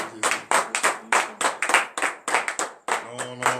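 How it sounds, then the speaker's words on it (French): A church congregation at a morning prayer service claps in quick, rhythmic bursts. Voices call out loudly between and over the claps. "C'est de lui donner de vives acclamations pour l'honneur et la gloire."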